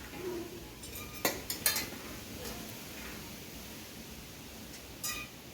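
Pots and utensils clinking while soybean potato curry cooks over a wood fire: a few sharp metallic clinks and taps clustered near the start and again near the end, faint against a quiet room background.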